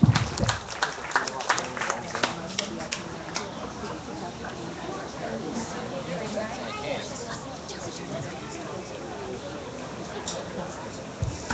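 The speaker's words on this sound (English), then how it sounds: "Let's give all these exhibitors a round of applause" Audience applause for beef show exhibitors at a county fair, a loose, scattered patter of clapping that swells early and then thins. It carries on beneath a steady background murmur of the crowd.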